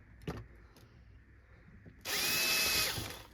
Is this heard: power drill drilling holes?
yes